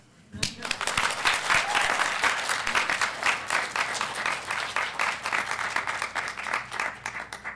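Sustained applause from a student reading audience at BYU, many hands clapping loudly and steadily for several seconds after a brief quiet start, with a few voices mixed in.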